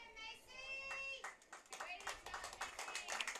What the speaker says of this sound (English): Now we get some cheers from the crowd